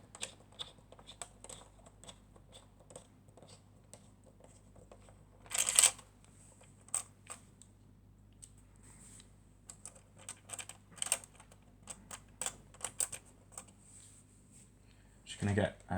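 Long screws being driven into a PS4 console with a Pozidriv screwdriver: faint, close ticking and clicking turns in irregular bursts, with a few louder scrapes.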